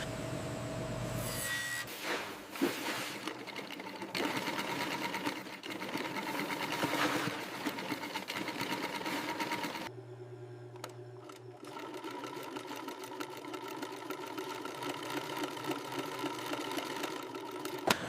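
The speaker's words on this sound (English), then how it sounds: "The leather pieces are joined using industrial machines." Industrial sewing machine joining snake leather pieces for luxury bags, a rapid mechanical whirring that runs in bursts with short pauses and shifts in tone. It sounds close and fairly loud, with no speech.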